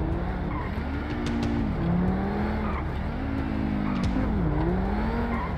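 A SSC Tuatara hypercar in GTA V drives hard with a steady engine drone and pitch swings, its tires squealing and skidding through turns across the whole stretch, no voices over it.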